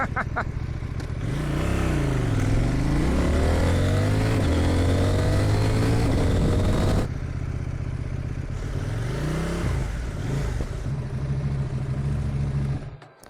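A CFMOTO 800NK motorcycle engine runs loud and close for the whole stretch, with rising and falling revs, rough clattering idle and a brief dip before climbing again.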